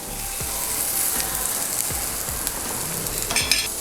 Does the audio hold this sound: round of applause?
no